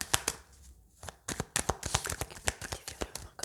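Tarot cards being shuffled by hand, a close run of crisp riffling snaps and slaps in quick irregular bursts, with a short pause early on before the shuffling resumes.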